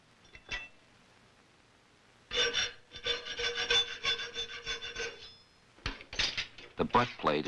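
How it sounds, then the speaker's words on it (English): A file rasps over the fitting edges of a colonial-style gun butt plate in a run of quick, close strokes, broken by a pause and a few metallic clinks before a shorter burst of rubbing resumes. "The butt plate is filed only on the fitting edges now."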